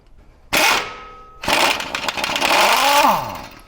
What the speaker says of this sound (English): Chrome socket on an impact.